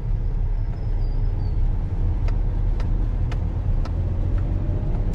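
Tricycle engine passing on a rural road in Sariaya, Quezon, a steady mid-pitched motor rumble that stays fairly close and loud throughout, with faint clicks overhead.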